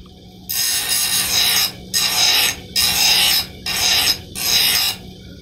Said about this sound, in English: I resort to this grinding wheel in order to remove some material so that I can examine it better.